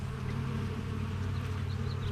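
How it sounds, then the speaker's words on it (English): A steady, dense hum of honeybees crowds the entrance of a beehive's landing board, a continuous close drone with no voices over it. "you can see, okay, there are bees coming and going."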